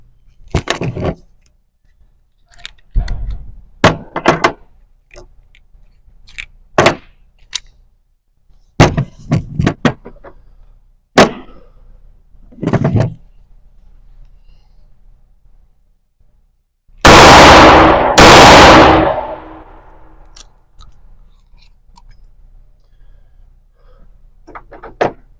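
Two loud gunshots at an indoor shooting range, back to back and close, each a sharp blast with a long booming tail, following a stretch of scattered clicks and handling noises with no talk.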